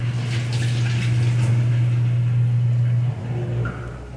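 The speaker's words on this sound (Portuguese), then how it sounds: "Esse barulho que vocês estão ouvindo aí é da máquina de lavar louça." A dishwasher's steady low hum with rushing, splashing water runs for a few seconds, then drops off and softens near the end.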